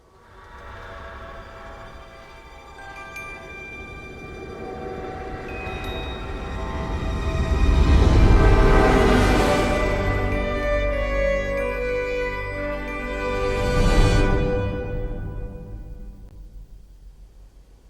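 A train passes in a film studio logo intro: rumbling, clattering cars with a long swell that builds around the middle and a second surge later, bright ringing tones on top, then a fade to quiet.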